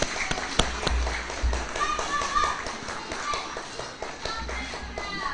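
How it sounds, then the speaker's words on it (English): An audience gives a round of applause at a Peace Day gathering, with brisk, moderately close clapping carrying on steadily for several seconds. "Everyone give them another round of applause."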